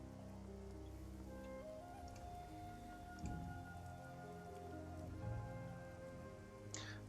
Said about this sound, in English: Maximum Law stands out in the rain